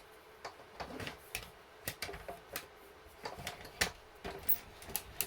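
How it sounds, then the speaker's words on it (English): A Stampin' Up Cut and Emboss machine is cranked with a die and cardstock running through, giving a quiet, irregular series of ticks and clicks close by. "I'm going to run that through my machine, my Stampin' Cut and Emboss machine."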